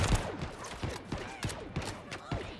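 Turret fire in a Halo game, a fast string of sharp, punchy shots repeating in uneven bursts throughout, fairly close and loud with no talk over it.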